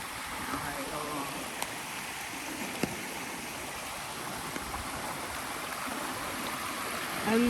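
A stream flows after rain in the Pacific Palisades, making a steady broadband rush of running water throughout. A few faint clicks sound over it, and the water stays even and continuous without voices until a brief sound rises at the end.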